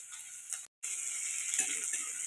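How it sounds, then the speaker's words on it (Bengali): Onion frying in oil with garlic and dried chilli produces a steady, close, hissing sizzle. The sound cuts out briefly once, and no one speaks. "পেঁয়াজটা ভাজা ভাজা হয়ে গেছে"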